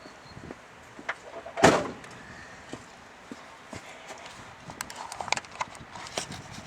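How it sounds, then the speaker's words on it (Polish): A car door is shut by hand in a parking area, one sharp loud thud amid scattered smaller clicks and knocks, close by with no speech. "Idę zamknąć drzwi."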